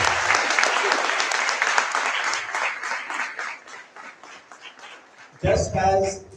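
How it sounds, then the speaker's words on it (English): Audience at a memorial lecture applauding a scientist, a dense burst of clapping that slowly thins and fades, then a voice speaks over the end. "So please give him a big round of applause."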